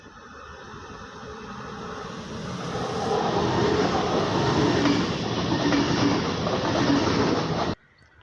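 Train passing by on the line from Travemünde to Hamburg, a rising rumble and rolling roar that swells and holds before cutting off abruptly, fairly loud and near, no speech.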